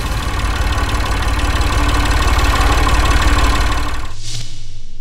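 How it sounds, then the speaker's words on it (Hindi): A tractor engine runs close by with a loud, steady, throbbing idle and a knocking chug, then its tone drops away abruptly near the end. "तो मैं भी आज ट्रैक्टर चला देता हूँ।"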